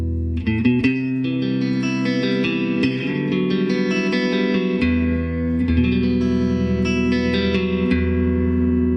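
A custom shop Stratocaster plays sustained chords and ringing notes through the clean channel of a Line 6 Spider I solid-state amp, full and steady with a touch of reverb, no voices.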